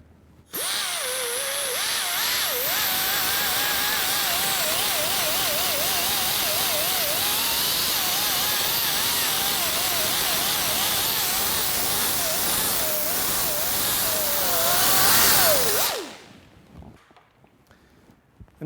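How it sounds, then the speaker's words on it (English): An abrasive wheel buffs old gasket material off the pan rail of an engine block, a steady high-pitched whine with a wavering pitch that runs unbroken for about fifteen seconds, loud and close, then cuts off as the tool spins down. "And then I like to use an abrasive wheel"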